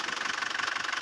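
An Isuzu Crosswind engine idles after repair of engine and transmission leaks, giving a steady, rapid rhythmic ticking and knocking pulse heard up close with no talk.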